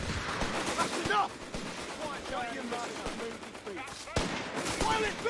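Machine-gun fire in the strategy game Company of Heroes 3 crackles in steady bursts amid other battle noise, with soldiers' voice lines shouting over the shooting and a sharp loud report near the end.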